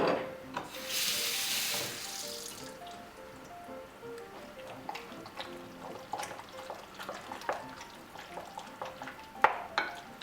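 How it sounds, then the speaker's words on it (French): Vegetable stuffing for Niçoise stuffed vegetables, seasoned with salt, pepper and olive oil, is stirred in a bowl, giving moist, squishy mixing sounds with scattered clicks of utensil on bowl. A brief hiss near the start. "Nous mélangeons soigneusement cette farce."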